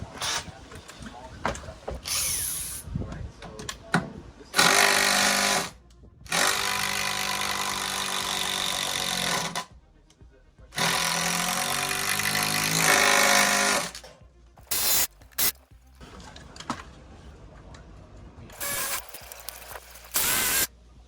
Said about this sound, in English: Have to finish these off with the ratchet.